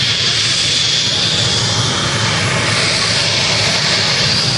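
Turbine-powered hot iron mini rod pulling at full throttle in a tractor-pulling style event at Great Eccleston, a loud, continuous jet-like roar with a high whine, steady and close.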